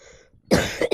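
A person gives two sharp, close coughs in quick succession, the first loud and harsh, the second shorter.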